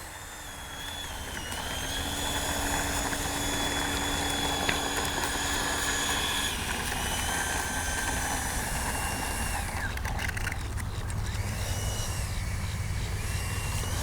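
A Freewing F-16 70mm electric ducted-fan RC model jet passes overhead with a steady, whining turbine-like hum whose pitch shifts as it throttles and passes, moderately distant.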